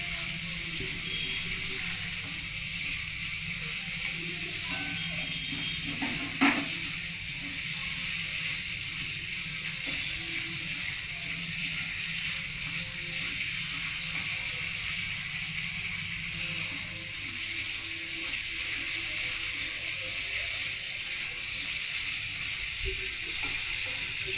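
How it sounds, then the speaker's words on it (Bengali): Prawns fry in a pan as part of a pointed gourd and prawn dish, giving a steady close sizzle and hiss that runs throughout, with one brief clink near the middle. "এবার চিংড়ি মাছটাকে ভালো করে ভাজা হচ্ছে।"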